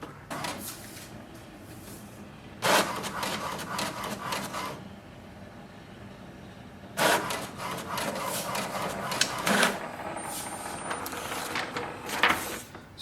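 An HP DeskJet 2742e inkjet printer runs a test copy, its mechanism whirring and clattering in bursts separated by quieter pauses.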